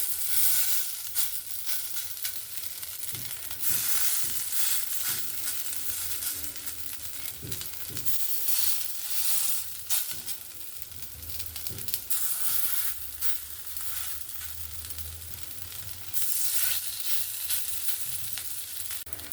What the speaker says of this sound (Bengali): বাদ বাকি যে আর চিংড়ি মাছগুলো আছে সেগুলোকেও আমি সেম পদ্ধতিতে ভেজে নেবো